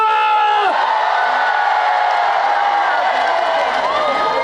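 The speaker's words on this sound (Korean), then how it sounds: "그렇다면 다 같이 다시 한번 더 박수와 함성!" A festival concert crowd cheering and shouting after a singer's call, a loud, dense, continuous roar of voices throughout, with a voice or tone sweeping through the crowd noise.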